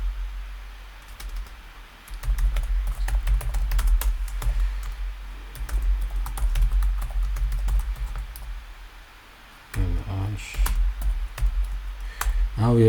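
Code is typed on a computer keyboard in quick, continuous bursts of clicking keys, close and clear, pausing briefly before resuming.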